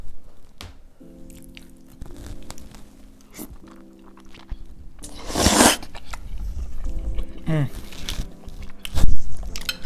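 Close, crunchy bites and chewing of seafood pasta with shrimp and garlic, coming in irregular bursts with a loud crunch midway and smacking near the end.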